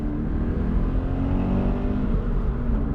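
A Toyota GT86 engine rasping on a downshift, a loud, close, continuous raspy drone that holds steady with slight rises in pitch, no talking.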